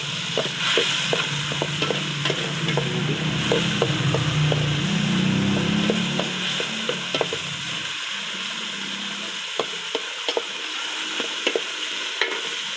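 Tomatoes cook in a pot for boneless milkfish sinigang, a loud frying sizzle under repeated sharp taps of a spoon stirring against the pot; the sizzle drops away partway through while scattered clinks continue.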